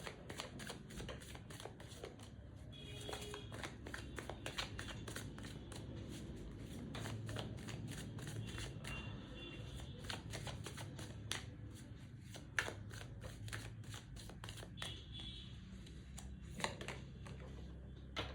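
Tarot cards being shuffled by hand, a quiet, close run of quick papery riffles and flicks repeating with uneven rhythm throughout, with no talking.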